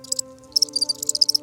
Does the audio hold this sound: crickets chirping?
yes